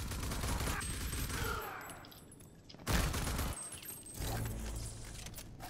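Bursts of automatic gunfire from a firefight in the video game Rage 2, loud and close, broken by a short pause in the middle of the clip.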